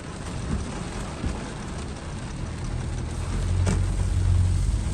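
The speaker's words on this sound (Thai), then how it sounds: "ฝนตกแรงมากนะครับ" Steady, dense hiss of heavy rain falling, with a low rumble underneath that swells slightly toward the end; no voices.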